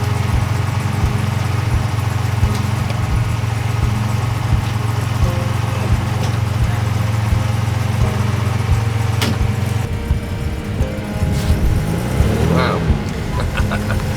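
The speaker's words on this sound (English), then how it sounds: "we're going to get this car on the road, get it back to Barry's house" A restored classic MG's engine drones steadily up close as the car drives along the road, a constant low hum that shifts and roughens partway through as the car changes pace, with brief knocks and rattles.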